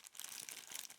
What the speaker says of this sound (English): So that is a clear plastic bag with a scoop inside of it